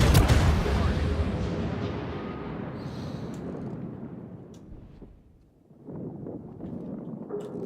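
Heavy naval gun salvo from the Japanese cruiser Zao firing on an enemy destroyer in a naval battle game: a big booming blast at the start that rolls off into a long rumbling decay, then lighter distant thuds, with voice callouts.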